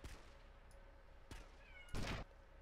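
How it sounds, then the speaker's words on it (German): A house cat called Chewie gives a short, fairly clear meow near the end, with a few faint clicks and thumps from a quiet room around it and no talking. "Ja, Chewie, ich weiß, du willst raus. Es tut mir leid, hör auf zu miauen."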